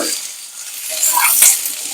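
Potato and taro pieces drop into hot oil in a frying pan for a Bengali fish curry with mixed vegetables, giving a brief close sizzle and clatter with a sharper rise near the end.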